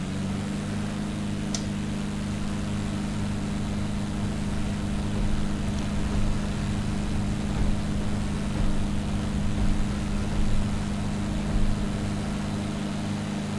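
Simulated light-aircraft piston engine at takeoff power with full rich mixture in the flight simulator X-Plane 11, a steady, loud, continuous droning hum that holds even throughout, with no voices.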